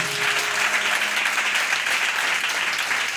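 A church congregation applauds and cheers, a dense, steady wash of clapping that stays loud and continuous throughout with no break.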